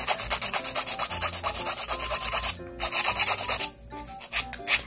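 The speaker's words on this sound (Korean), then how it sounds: "샵에서는 손톱 길이 조정을 시간을 줄이기 위해서 이게 좌우로 그냥 빨리 갈고 있지만, 시험 보실 때는 항상 한 방향으로 네 가셔야 돼요." Fingernails being shaped with a nail file, quick side-to-side strokes in a fast, steady rasping rhythm, close and loud, with a short pause partway through.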